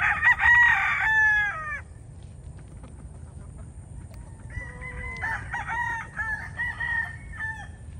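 Gamefowl roosters at Kasmina Game Farm crow loudly nearby, one long crow followed by another a few seconds later, over a low murmur of background farm noise.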